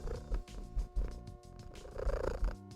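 A contented cat purrs steadily up close, the low rumble pulsing in a regular rhythm of breaths, loud and alone with no talking over it.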